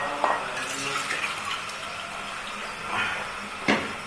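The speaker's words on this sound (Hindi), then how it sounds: "अब मैं इसमें पानी डाल दूंगी, कोफ्तों के ऊपर तक पानी होना चाहिए।" Water poured into a pressure cooker over fried koftas in spiced curry, a soft running splash with a few brief louder gushes near the start and end, fairly quiet and steady.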